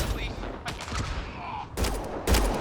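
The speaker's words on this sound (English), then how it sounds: "They shot him!" Gunfire erupts in the sci-fi game Mass Effect Andromeda, a few scattered shots at first and then two loud sharp volleys near the end over a low ambient background.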